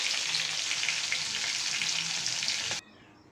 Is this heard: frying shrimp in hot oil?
yes